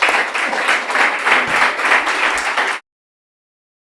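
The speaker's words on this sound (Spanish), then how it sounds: "Sí, yo creo que un aplauso." An audience at a talk on waste management in Navarra breaks into close, loud applause, many hands clapping steadily for almost three seconds before cutting to silence.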